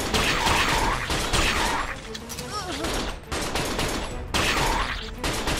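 Gunfire in the third-person shooter Binary Domain, with dense bursts of rapid shots and mechanical clatter fading in and out, sometimes under a player's talk.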